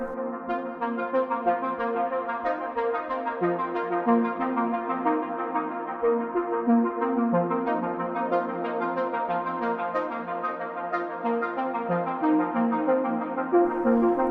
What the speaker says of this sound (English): It's from the Microfreak and sounds like this